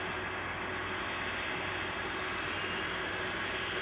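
A Lufthansa airliner taxis out at Manchester Airport, its jet engines giving a steady, moderately distant hum and whine that holds evenly throughout with no voices.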